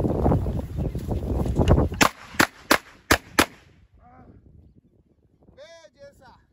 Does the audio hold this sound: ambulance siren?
no